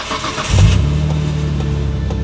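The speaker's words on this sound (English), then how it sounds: "I'll start the car to see if it's still squealing." A tuned Nissan GT-R with a previously squealing belt cranks briefly and catches, settling into a steady, close, loud idle with a low rumble.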